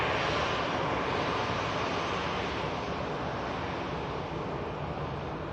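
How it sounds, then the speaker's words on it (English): A Qatar Airways jet begins its departure roll at Manchester Airport with a broad, steady rumbling roar, distant and even, with no voices. "the Qatar at the back of shop commences the departure roll"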